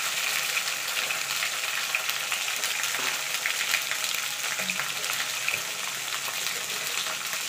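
Flat beans (sheem) fry in an open pan for a pure-veg Bengali paturi, a steady close hissing sizzle that runs unbroken with faint stirring scrapes and no talk.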